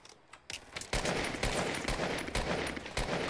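Rapid gunfire from the Fortnite Battle Royale video game rattles out in sharp, loud repeated cracks. Sparse shots open the clip, then a sustained barrage runs to the end with little else audible.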